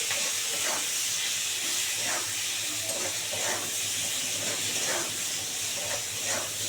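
Eggplant fries in hot oil in a pan with potato and tomato, a loud continuous hiss with soft rhythmic bursts every second or so.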